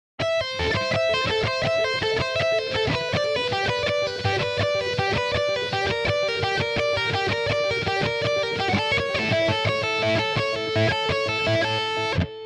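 An electric guitar plays a busy, continuous riff of quick notes from a song with a slightly gritty tone, loud and steady throughout, with no voices.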